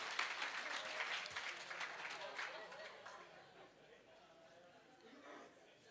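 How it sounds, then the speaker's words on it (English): Audience at a bodybuilding championship night applauding, a thick burst of clapping mixed with crowd chatter that gradually thins and fades toward the end. "Give him a big round of applause"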